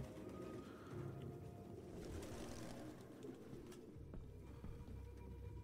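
Pigeons cooing in the video game Detroit: Become Human, soft bird murmurs over a low ambient rumble, fairly faint and without speech.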